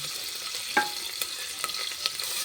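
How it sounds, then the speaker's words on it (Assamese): Ginger garlic paste and onion go into a pan of hot oil, giving a steady close sizzle with a few soft stirring scrapes and taps, no voices. "ইয়াত আছে আদা ৰচুনৰ পেষ্ট, আৰু এয়া পিঁয়াজ। এতিয়া দি দিম ইয়াত"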